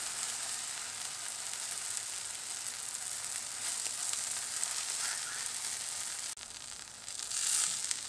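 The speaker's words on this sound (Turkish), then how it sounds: "Diğer tarafında aynı üstü gibi kızarttık" Oil sizzles and crackles steadily in a pan as börek fries, a continuous hiss up close that briefly drops and then flares again.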